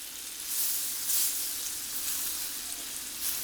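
Slices of daikon bacon fry in a pan, giving a continuous bright sizzle and hiss that swells and fades slightly, close and steady with no voices.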